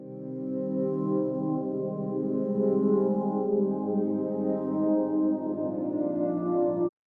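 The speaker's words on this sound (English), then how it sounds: "I have this atmospheric pad" A sustained atmospheric synth pad from FL Studio holds a rich, layered chord for about seven seconds, steady and smooth with slow shimmering movement, then cuts off abruptly.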